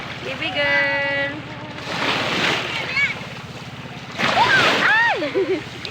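Strong waves surge and wash loudly at a shoreline in the province, a broad roar under a voice and adult talk.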